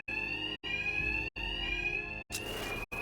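Alarm ringing in the video game Batman: Arkham Knight, a loud electronic bell-like tone sounding in four long pulses separated by brief gaps, with some crackling noise near the end and no talk.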